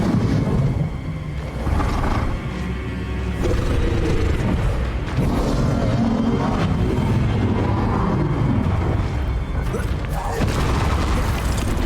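Bombarda spell blasts boom through a chaotic Hogwarts Legacy fight, loud repeated explosions and crashes piling on top of each other over a dense rumble for the whole stretch, with no voices.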